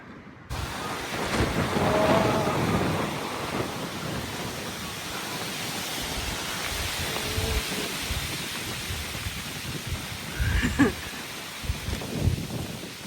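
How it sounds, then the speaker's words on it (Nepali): Wind gusts roar steadily with a broad hiss of rain, rising and falling in strength, with a few faint knocks near the end. "अहिले चाहिँ पानी हावाहुरी प्लस घाम लागिरहेको छ"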